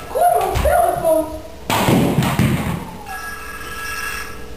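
A telephone rings in a studio, its bell chiming in short bursts alongside heavy thumps and bustle, then fading to a quiet hum.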